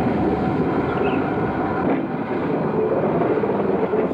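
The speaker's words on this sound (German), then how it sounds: "Gleich nach der Ausfahrt aus dem Bahnhof schob sich die Lok langsam auf die Zahnstange." A steam locomotive in Indonesia eases slowly out of a station onto a rack railway, giving a dense, steady mechanical rumble and hiss, loud and close, with no voices.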